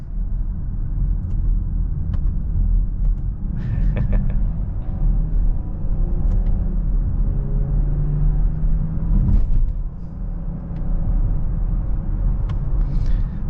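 A 2023 BMW X5 with a 3.0-litre twin-turbo inline-six and 8-speed automatic driving along, giving a steady low engine and road rumble throughout with a brief louder swell near the end.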